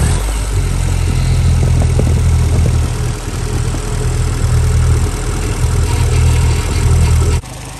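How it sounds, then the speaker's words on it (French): A car engine runs at a steady, loud idle, with a deep continuous rumble and a fine mechanical chatter, close up. The sound cuts off abruptly near the end. "écoute-moi tourner ce moteur"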